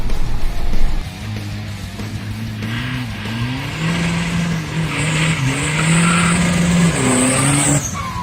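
An Isuzu All-New 2.5 pickup fitted with a Garrett AR58 turbo drives and accelerates, its engine note rising and falling through the gears with a whistling turbo spooling over it, loud and close.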